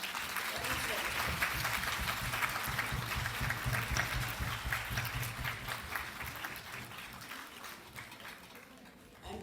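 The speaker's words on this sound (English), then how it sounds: "So let's give a big clap." A workshop audience claps together in sustained applause, steady and moderately loud at first, then gradually thinning and fading toward the end, with faint voices mixed in.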